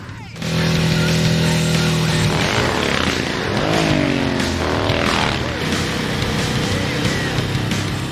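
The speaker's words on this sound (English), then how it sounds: "It has a sort of a racing engine in it compared to our production motorcycles." A racing motorcycle engine with dual exhaust starts and revs hard, its pitch rising and falling through several loud throttle bursts, with a voice faintly underneath at times.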